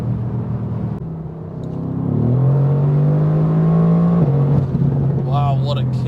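A 585 HP Mercedes-AMG GTR accelerates on the autobahn in race mode, its engine droning low and rising in pitch through a gear before a shift kick, loud and close from inside the cabin, with an exclaiming voice over it.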